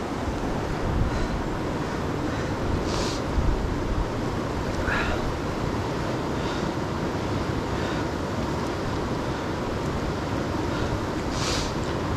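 Steady wind roars outdoors by a river at Ohiopyle State Park on a chilly January day near 14 degrees. It makes a broad, continuous rushing noise buffeting the microphone, with no talk.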